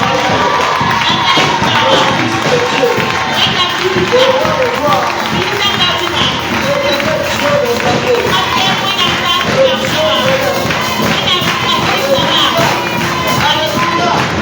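A church congregation gathered for a worship event in Ouagadougou stands and cheers loudly, a dense, continuous roar of crowd shouting and acclamation that fills the whole stretch without pause.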